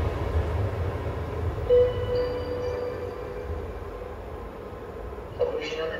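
A delayed train, likely a TLK or Intercity service in Poland in summer 2021, rumbles past with a steady low roar, some squealing tones and a brief clatter near the end, while a voice is heard over it.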